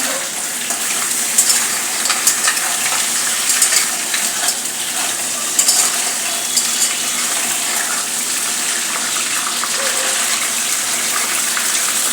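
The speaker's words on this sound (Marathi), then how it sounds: "खेकडी चांगले तेलात परतून घेऊया. हाय फ्लेम करायची आहे." Crabs fry in oil over a high flame, a loud steady sizzle and crackle with brief stirring clatters now and then.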